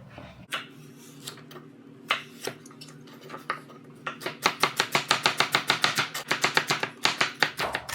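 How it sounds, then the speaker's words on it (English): A knife chops the tops and bottoms off vegetables, including celery, on a cutting board. A few spaced cuts come first, then a fast, steady run of crisp, close chops. "I'm going to cut off the tops. This is going in my scrap bowl."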